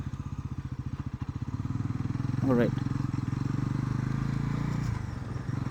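A 2025 Bajaj Pulsar NS400Z motorcycle is ridden on the road, its engine throbbing steadily and close, rising in revs partway through, while someone speaks briefly over it.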